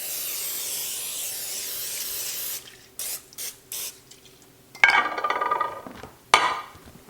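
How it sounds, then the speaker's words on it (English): A steady cooking spray aerosol hisses onto a 9 by 11 baking dish for a couple of seconds, then stops, followed by a few short bursts and clattering, scraping kitchen sounds nearby. "I'll spray it with some cooking spray."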